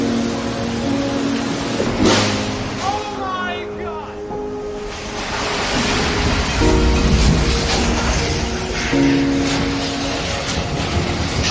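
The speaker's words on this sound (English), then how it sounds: "Numerous winds of 90 miles an hour or greater." An Iowa derecho windstorm with gusts of 90 miles an hour or more sweeps toward the Cedar Rapids area, a loud, steady broadband roar that surges and rumbles throughout, with voices talking over it.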